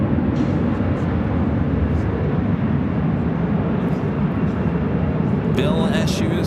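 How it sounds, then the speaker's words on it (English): Old ex-TWA Delta Boeing 757 jet departing an airport at night, a loud, steady roar of engines filling the whole clip, with a person speaking over it. "That was a Delta flight heading to Boston, flight 507, an old TWA"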